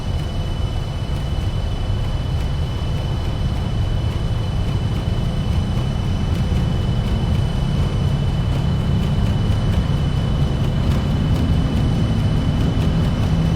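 Fokker 28 jet engines running at takeoff thrust in a flight simulator, a steady loud roar with a fixed high whine holding throughout and a slight rise in the low rumble near the end, with no talk over it.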